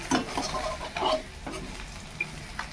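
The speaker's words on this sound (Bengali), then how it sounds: "মাছগুলো খুব সুন্দর করে ভাজা হয়ে গেছে, এবার নাবিয়ে নেবো।" Fried fish being lifted from a pan, with a few close stirring scrapes and utensil knocks over a faint sizzle.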